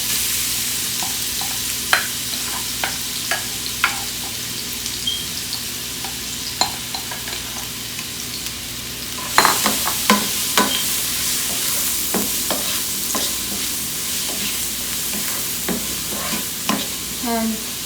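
Onion frying in a pan for pav bhaji sizzles steadily over very low heat, while a spoon stirs it with repeated close scraping clicks that grow busier partway through.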